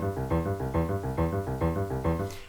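Arpeggiated synth notes from an Akai MPK Mini mk2 with swing set to 50% repeat in an even, straight rhythm of evenly spaced pulses, loud and steady with no voices.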